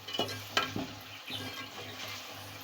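Minced meat (keema) frying on high heat in a pot, with a steady close sizzle broken by several sharp scraping stirs of a spoon against the metal, no talking.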